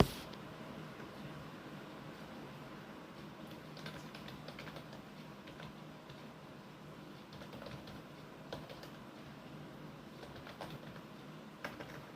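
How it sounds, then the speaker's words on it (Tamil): Continuous keyboard typing with a steady patter of light key clicks, close and even throughout, with no voices. "இதையும் டைப் பண்ணிக்கிட்டேன்"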